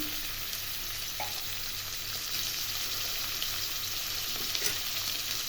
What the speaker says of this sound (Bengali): এবার শুটকি মাছটা ভেজে নেব